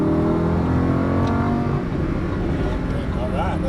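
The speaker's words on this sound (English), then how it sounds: "A little bit of throttle to the apex and accelerate out" A Lamborghini Huracan LP610-4 accelerates hard out of a corner on a race track, its engine loud and close with a rising, revving note, while a driver talks over it.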